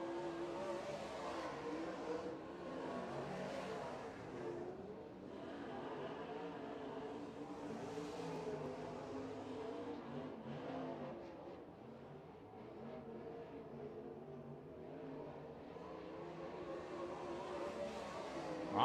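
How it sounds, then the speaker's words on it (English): A modified race car circles the racetrack at the East Bay WinterNationals, its engine droning steadily and loudly throughout with rising and falling revs as it accelerates and passes, no voices over it. "Austin Sanders on the racetrack in car 64"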